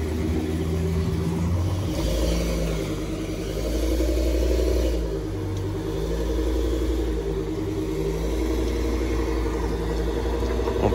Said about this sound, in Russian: V10 бензиновый двигатель